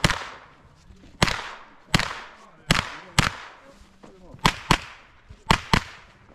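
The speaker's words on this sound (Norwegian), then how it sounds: "Han skjøt jo alle skivene." Gunshots at a shooting match crack out one after another at targets, eight or nine sharp close reports at irregular intervals, each followed by a short ringing decay.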